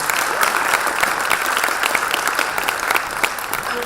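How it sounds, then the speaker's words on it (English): Steady applause fills a room at a health workforce panel event, a continuous crowd of clapping hands at even strength for a few seconds with faint voices underneath. "So please, one more round of applause."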